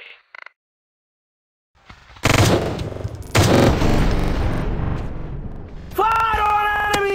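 Video game shooter gunfire erupts after a short quiet start, loud rapid bursts and sustained automatic fire rolling continuously, with a sharp second volley and electronic tones layered on top near the end.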